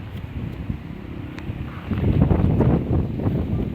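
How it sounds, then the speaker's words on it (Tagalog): Wind rumbles and buffets the microphone steadily in an outdoor vegetable garden during harvest, growing stronger partway through, with a low roar underneath. "Parang bumabalik ang hangin"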